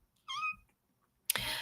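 A pet cat gives one short, clear meow, then a burst of broadband noise follows a moment later.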